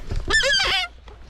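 A bird gives a loud, nasal honking call, two quick harmonic notes close to the microphone, then quiet.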